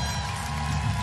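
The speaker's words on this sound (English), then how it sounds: "Kayla King getting a nice round of applause as she heads to the bench." Crowd applause at a women's college basketball tournament game in the ACC, Miami against Virginia Tech, a dense, steady wash of clapping and cheering from a large arena crowd throughout.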